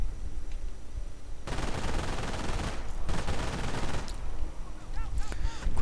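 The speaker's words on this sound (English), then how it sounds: "Quickly getting suppressed by the MG in the house." Video game machine gun fire from a gun position in a house pins down troops: sustained rapid bursts, dense and loud, with short pauses and a few sharper cracks, and no voices.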